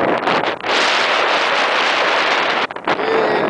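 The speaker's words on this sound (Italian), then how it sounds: "lì si sta sollevando un vento" Strong wind buffets the microphone on an open mountain ridge in Valsesia near Monte Luvot, a loud continuous roar with brief dips near the start and toward the end, no voices.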